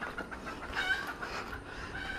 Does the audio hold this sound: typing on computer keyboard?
no